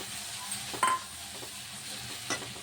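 Masala with peas and salt being sautéed in a pan for pav bhaji, a soft steady sizzle with brief stirring scrapes and a couple of louder clinks of the spoon.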